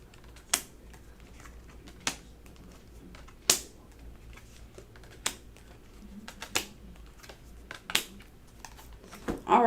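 Tarot cards being shuffled and drawn during a psychic reading, heard as sharp, separate slaps and snaps at irregular intervals over a quiet, faintly humming room, with no talking.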